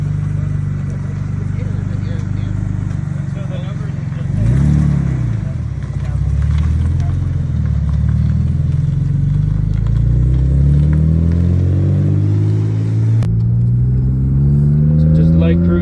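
A turbocharged 1989 BMW M3 with an S52 engine on a test drive, its engine droning and rising in pitch as it accelerates through the gears, with a brief swell of revs midway and a sharp click near the end.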